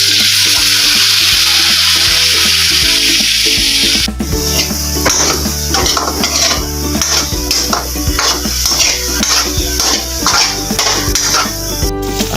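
Meat simmers and fries in soy sauce for adobong sitaw, giving a loud, steady sizzle and bubbling, with scraping stirs of a utensil against the pan starting partway through and continuing in irregular strokes.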